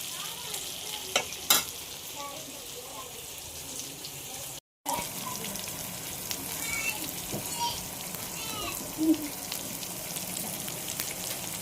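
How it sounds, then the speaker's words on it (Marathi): Kupa fish frying in a pan, a low, continuous sizzle with occasional clicks and a short break, faint running water and a few quiet scrapes mixed in. "हे बघा फ्राय मच्छी पण आपली शिजते इथे एका साईडला."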